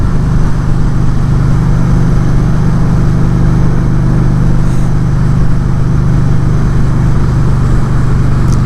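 Kawasaki Voyager 1700cc V-twin motorcycle engine under way while riding, a steady low rumble droning continuously and loud throughout, mixed with rushing wind noise and no talking.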